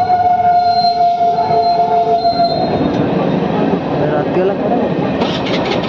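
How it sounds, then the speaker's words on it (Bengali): At a level crossing at night, a train rumbles past loud and close with rattling wagons and a rising metallic screech, while a person talks over it. "এখন আবার একটা ট্রেন যাবে।"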